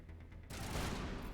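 Sustained gunfire in the video game Mass Effect, opening with a sharp burst and continuing as a dense, close, loud volley of shots to the end.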